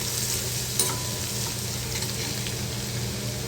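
Ginger-garlic paste stirred and sautéed in a hot pan for a dry cluster bean (gawar) dish, giving a steady close sizzle with occasional soft scrapes of a spoon, no voices.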